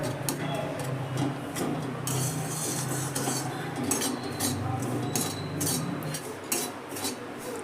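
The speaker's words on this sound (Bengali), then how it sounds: "এবার বেসনটাকে দিয়েও কিন্তু আমি খুব ভালো করে এবার নেড়ে নেব" Gram flour and semolina are stirred in a pan over a low flame. A spoon scrapes and ticks against the metal in quick, repeated strokes at close range.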